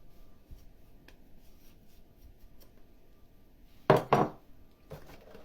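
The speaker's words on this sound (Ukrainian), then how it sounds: "Все буду змішувати. Це перемішала" A spoon stirs cake cream in a bowl with two short, scraping bursts near the end, after a long stretch of quiet kitchen background.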